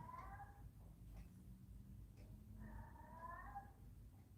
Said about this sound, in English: Neighbour's cat. Right on cue.